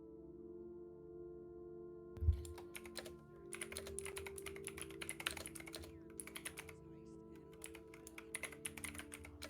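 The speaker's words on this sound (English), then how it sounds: "I've been typing this whole time. I love this sound so much." Quiet typing on a computer keyboard, a light clatter of rapid uneven keystrokes starting after a soft thump and continuing steadily over a low background hum.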